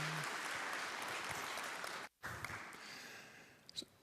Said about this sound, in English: So just a quick round of applause to everyone who put this together.